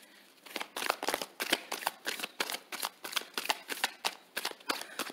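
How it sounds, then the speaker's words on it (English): Moonology Oracle Advice cards being shuffled by hand, a quick run of crisp riffling bursts repeating in a steady rhythm, close and fairly loud with no voice over it. "we're going to pull three Moonology Oracle Advice cards for you"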